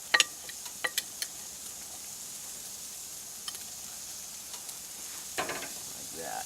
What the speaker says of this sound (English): we'll put it spice side down so it can cook up into the meat.